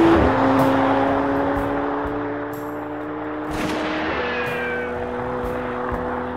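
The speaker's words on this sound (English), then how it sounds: "here is the McLaren 720S Spider" A McLaren 720S Spider sports car engine drones and shifts pitch as it passes, a loud, sustained tone with rising and falling harmonics over road noise, no voices.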